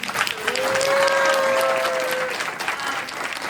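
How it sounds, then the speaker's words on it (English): Audience at a city council candidate forum giving another round of applause, steady crowd clapping throughout with a held vocal tone or whoop rising briefly over it. "Our two candidates another round of applause"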